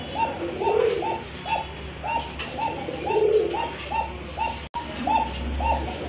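Pigeons for sale, Basiraj birds among them, coo repeatedly in a steady rhythm of soft throaty calls, close by and moderately quiet, with no voices over them.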